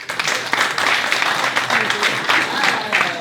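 Comedy club audience in Bordeaux applauding in answer to a comedian's show-of-hands poll about public transport; a steady, moderate wash of clapping throughout, no distinct voices.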